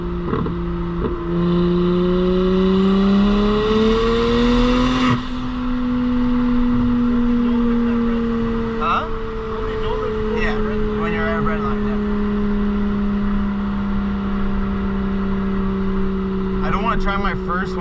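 A single-turbo BMW 335i with the N54 engine revs loudly and steadily, its tires spinning, a strong sustained engine drone rising in pitch over the first five seconds, then holding at a high, steady roar throughout.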